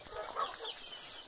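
Chickens cluck and call continuously at moderate distance, with a soft, busy, fluttering quality and no voices over them.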